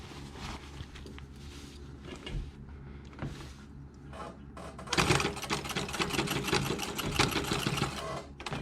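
A sewing machine stitches the cuff of a dress shirt during a sleeve-shortening job, with short whirring bursts and pauses before a loud, steady run of stitching in the second half.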